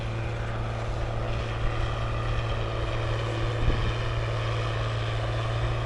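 A John Deere 8560 tractor engine runs loud and steady, a dense continuous drone with a strong low hum that stays constant from start to finish, close by with no break.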